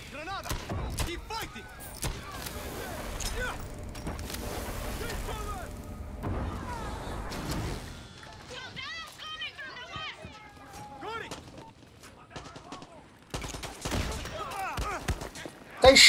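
Gunfire in the video game Far Cry 6, a rapid volley of shots and impacts in busy bursts, mixed with game sounds and heard under near-constant talking.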